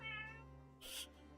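A cat character, one of the Nekos, in the video game Metaphor: ReFantazio gives two short meows, the first tonal and drawn out, the second brighter and breathier, both faint and close.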